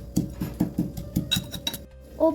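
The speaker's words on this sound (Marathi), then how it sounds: "आता आपण मिरच्या लसूण व मीठ घेतलेलं कुटूया" Rhythmic metallic pounding of chilies, garlic and salt in an iron mortar, about a dozen sharp strikes in steady succession, close and fairly loud, ending with a brief clatter.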